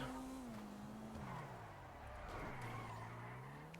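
A car engine drones with a rising and falling pitch as tires skid and squeal. The sound is quiet and steady throughout, with no distinct crash impact.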